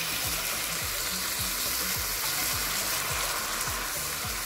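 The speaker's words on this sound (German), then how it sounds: "Ich lösche das Ganze nun mit Kochsahne ab." A hot pan of meat being deglazed with cooking cream gives a steady, dense sizzling hiss that stays loud and even throughout. A low, rhythmic thudding runs underneath, and nobody speaks.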